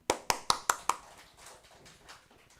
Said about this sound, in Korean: 참 잘하셨어요. 박수.